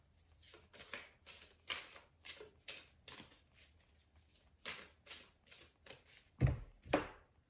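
An oracle card deck shuffled for a tarot-style reading: repeated quiet riffling and sliding card bursts in an irregular rhythm, close and soft, ending with two firmer taps as the deck is squared, with no talking.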